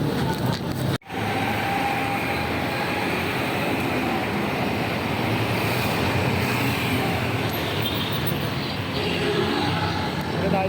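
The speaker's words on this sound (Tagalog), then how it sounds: "Grabe yung hangin, no?" Strong wind roars in a dense, steady buffet against the microphone at an outdoor event, with a brief dropout near the start and people talking under the noise.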